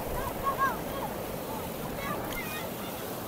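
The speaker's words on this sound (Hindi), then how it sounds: "आबशार वगैरह है" A waterfall pours down a mountainside in the Naran Kaghan area, a constant broad rush of water with some wind noise.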